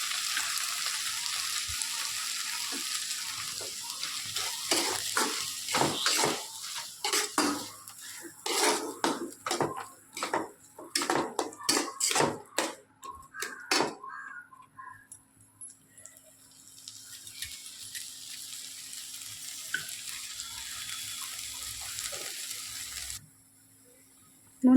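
Soybean sizzling in ghee in a pan over a gas flame, with scraping and clinking of a spoon against the pan in bursts, then a quieter steady fry; occasional talking over it.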